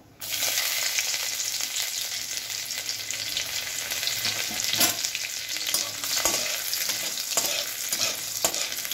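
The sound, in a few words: chopped garlic and dried chili frying in oil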